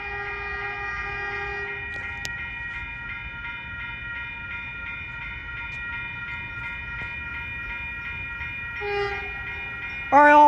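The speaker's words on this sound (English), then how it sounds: "here comes Caltrain 117. This is a northbound local train making all the stops to 4th and King Street Station in San Francisco." A northbound Caltrain local train sounds a sustained multi-tone horn while arriving at Menlo Park station, holding steady for most of the clip before a louder horn burst at the end.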